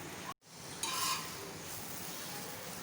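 Omelette batter sizzles on a hot pan alongside a paratha, a soft continuous crackle and hiss at low volume, with a brief dropout and a small scrape or clink just before the sizzle swells.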